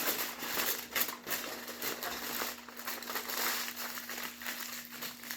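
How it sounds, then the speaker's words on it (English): Aluminum foil being crumpled and pressed around the legs of a spider craft, soft close crinkling and rustling in irregular bursts, fairly quiet, with no talking. "You're just crumpling it around the legs."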